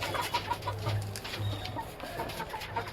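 Aseel short-beak chickens cluck in a low, repeated rhythm close by, with soft bird calls and background noise in a backyard cage setting.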